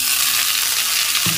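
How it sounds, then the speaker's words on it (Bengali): Potatoes and bottle gourd stalks sizzle steadily in a hot pan of oil as they are stirred, with a continuous close hiss and a soft stirring knock near the end. "আলুগুলোকে নেড়ে চেড়ে ভালো করে ভেজে নিচ্ছি।"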